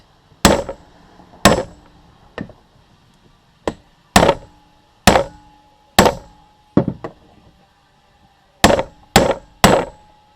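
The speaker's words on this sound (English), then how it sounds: "give it a couple of real good whacks" About eleven sharp metal hammer blows on a u-joint cap on a Jeep TJ Wrangler axle shaft, loud and close, spaced irregularly with short pauses and a pair of quick strikes near the end.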